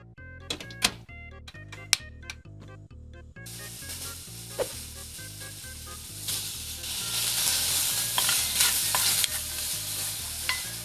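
Minced garlic frying in rendered oil for cheese soft tofu stew, with a scraping spatula stirring against the pan. A loud sizzle builds after a few seconds while light music plays through.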